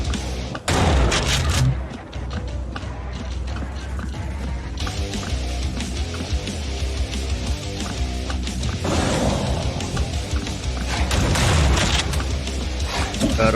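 Heavy explosion blast wave in the 1990s-style shooter game Hellbound, a loud booming burst over dense game music and effects that sustains a rumbling roar throughout.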